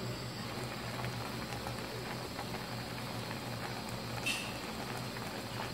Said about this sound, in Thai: กำลังเดือดเลยจ้ะ